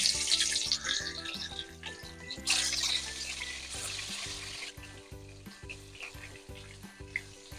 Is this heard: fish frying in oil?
yes